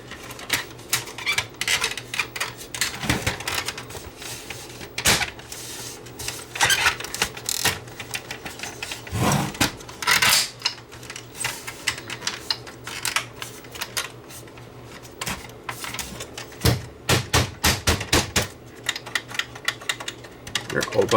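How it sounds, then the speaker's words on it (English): Buttons on a Panasonic PV4361 VHS HiFi recorder with SuperVHS playback, just overhauled, click through a run of sharp mechanical presses, some isolated and some in quick bursts, over a steady low hum, with no talk. "There, all buttons are clicking."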